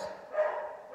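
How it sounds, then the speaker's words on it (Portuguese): A neighbour's small dog barks in a close, continuous burst of yaps lasting about a second, fairly loud with no talk over it. "ele começa a latir"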